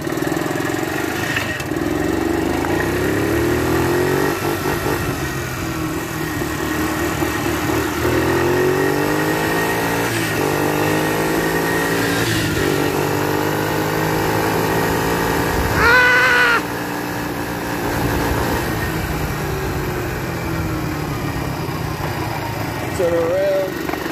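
A 50cc kids' ATV engine revving up and down in repeated rising and falling sweeps, loud and close, with short pauses between runs and people talking over it.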